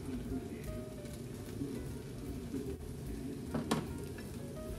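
Bacon sizzles and crackles steadily in a frying pan at home during breakfast cooking, a faint, even hiss with a few sharper pops and light utensil sounds, no talking.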